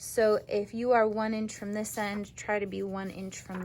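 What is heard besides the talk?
None of the usual background noises is heard.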